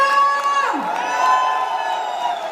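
A crowd at a wellness company event cheers and shouts, with sustained voices and whoops overlapping. A gliding tone falls partway through, while steady cheering continues at moderate loudness.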